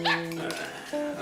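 A dog whimpers and whines in short, high, wavering cries, close by and fairly quiet, lasting just over a second.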